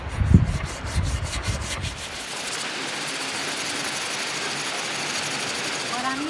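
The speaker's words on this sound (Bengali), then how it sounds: "কসবাইট জালির মধ্যে কিছুটা কলগেট নিয়ে নেব। এবারে ভালো করে ঘষে নিতে হবে।" A scouring pad loaded with Colgate toothpaste scrubs a metal kitchen blade, starting with quick rhythmic rasping strokes that settle into a steady gritty hiss.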